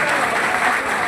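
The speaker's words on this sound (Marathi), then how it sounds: "जरा जोरदार टाळ्या वाजवा." Dense, sustained applause from an audience at an umbrella-distribution event marking the birth centenary of Shiv Sena founder Balasaheb Thackeray; steady and loud throughout, with no break.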